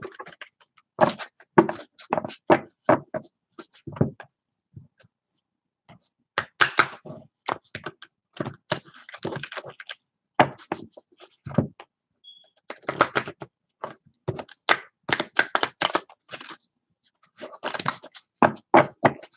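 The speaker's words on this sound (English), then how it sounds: "I'm just going to shuffle this deck real quick" A deck of cards being shuffled by hand gives irregular bursts of crisp riffling and tapping, separated by short quiet gaps, close and fairly loud.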